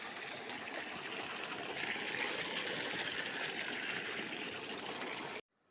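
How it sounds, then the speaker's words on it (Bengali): Water from a submersible pump pipe rushes steadily and close, a constant gushing flow that stops abruptly at the very end. "সাবমার্সেবেলটা চলছে, জমিতে জল যাচ্ছে, পাইপটা দিয়ে সবজি বাড়িতে জল যাচ্ছে।"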